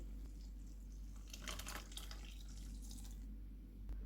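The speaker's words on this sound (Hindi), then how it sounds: "बाकी का पानी डालेंगे" Water is poured in a soft, faint trickle against quiet background noise, with a few brighter splashes midway, as it is added to mango puree, sugar syrup and lemon juice for mango lemonade.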